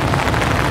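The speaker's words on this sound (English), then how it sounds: "It has not stopped raining." Steady rain drums on a Regatta Montegra 2 tent in a dense, continuous patter, loud and close, with no voices.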